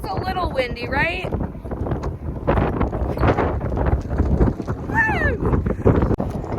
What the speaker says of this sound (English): It's just a little windy, right?